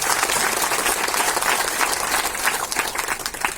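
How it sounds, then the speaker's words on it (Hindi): A large audience applauds Rajni ji at a talk on climate change, with dense and steady clapping that holds throughout and tapers slightly at the end. "रजनी जी को बहुत जोर से ताली बजा के"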